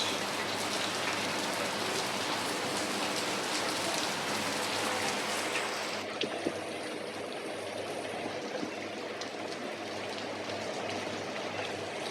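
Heavy rain pours steadily over rice fields in rural Pakistan in a dense, hissing wash, loud and close throughout, with the upper hiss thinning slightly midway.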